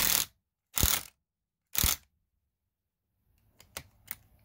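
A ratchet clicks in three sharp, separate bursts as a part is tightened during an RV slide-out leak repair on a Monaco motorhome, followed by a few fainter clicks, with silence between the bursts.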